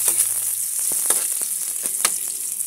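Onion frying in a pan for bagoong, a bright continuous sizzle broken by several scraping stirs and light clicks, close and fairly loud with no talking.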